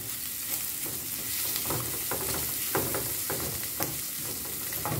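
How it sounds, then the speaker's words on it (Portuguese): Bacon, calabresa sausage and chopped onion fry in a pan with a steady close sizzle, punctuated every half second or so by the scrape and clatter of stirring. "estou aqui dando uma fritadinha no bacon e na calabresa"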